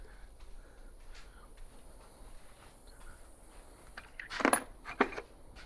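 Scattered tools are rummaged for a socket in a cluttered garage during engine installation on a 1972 Pontiac GTO frame; after a quiet stretch, two short bursts of metallic clinking and clattering come up close near the end.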